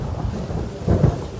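A low, rolling rumble of thunder as a storm builds before rain, loud and close, swelling slightly near the end with no voices present.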